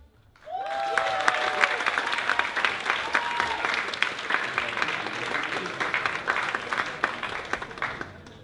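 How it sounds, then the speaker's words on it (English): A live audience applauds warmly for the opening act at a Flashback Friday music night, loud sustained clapping with a few cheers rising at once and holding steady to the end. "let's all give a big round of applause for the very first performance of tonight!"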